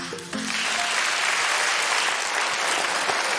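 Audience clapping at a stand-up comedy show, a short bit of the comedian's voice first, then loud sustained applause from the room that continues to the end.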